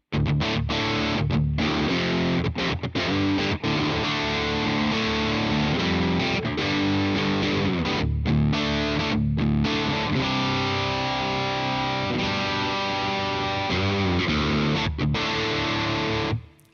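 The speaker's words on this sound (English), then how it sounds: "That is the scooped yet fizzy, grainy distortion" Electric guitar played through a Line 6 Helix with scooped, heavy, fizzy, grainy distortion, sustained chords ringing loud and continuous with brief gaps between strums.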